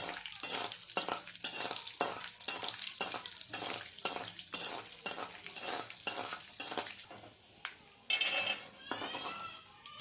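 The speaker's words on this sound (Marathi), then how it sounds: "त्यासाठी आपण शेंगदाणे तळून घेऊ." Peanuts fry in a pan for a makhana chivda snack, being stirred in rhythmic scraping strokes over a steady sizzle, with a few clinks of utensils near the end.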